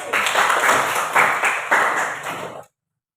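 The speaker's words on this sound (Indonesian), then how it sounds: "Tepuk tangan buat Susan" A classroom of students claps for a classmate named Susan, several uneven bursts of hand clapping that swell and fade, with a bright tone in the background, ending abruptly in silence.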